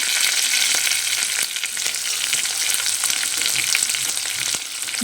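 Lengthwise-sliced onions hit hot oil for an Indian potato palya, crackling in a dense, loud sizzle broken by sharp clicks of a stirring spoon. No one speaks.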